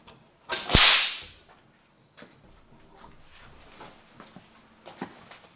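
A single sharp, loud whip crack from a non-frayed cracker rings out, followed by faint rustling and small knocks in a quiet room.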